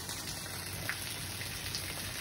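Morning rain falling in a garden among orchids and bromeliads, a faint, steady hiss of drops with occasional soft splats and no voices.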